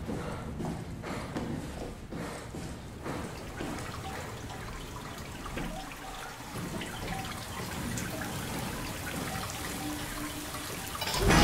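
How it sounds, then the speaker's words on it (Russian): Water still running somewhere in a derelict facility in the game Soma, a steady trickling wash with irregular drips and clatters beneath it, continuous and moderately distant, no voices over it. "Там вода течет до сих пор."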